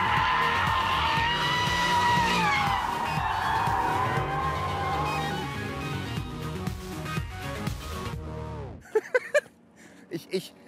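Aston Martin Vantage with stability control off, drifting with smoking tires: a loud sustained engine roar with squealing tires runs for about eight seconds, then cuts off to quieter, scattered clatters.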